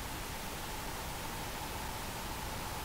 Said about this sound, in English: let's run some pink noise through this